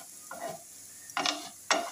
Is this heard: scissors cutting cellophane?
no